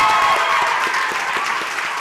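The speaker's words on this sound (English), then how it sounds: "A round of applause for Nana Banamwa." Audience applause rings out at a TV talent show event, a dense steady wash of clapping filling the whole stretch at a fairly loud level.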